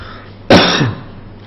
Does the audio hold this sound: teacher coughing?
yes